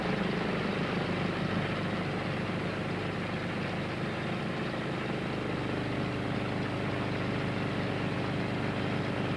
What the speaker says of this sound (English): This Heracles airliner will complete the first leg of the journey from London to Brindisi.